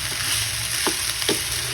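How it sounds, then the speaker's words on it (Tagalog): Fried rice being stirred in a frying pan, a steady close sizzle with two or three soft scrapes of the utensil against the pan, no voices. "Haluin lang para po mag-mix ang mga ingredients ng maayos."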